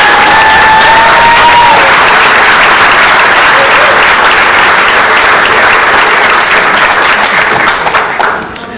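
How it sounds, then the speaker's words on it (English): Audience at a city council meeting breaks into sustained loud applause, a dense wash of many hands clapping that holds steady for several seconds before tapering off at the end. "Please give Rebecca a round of applause."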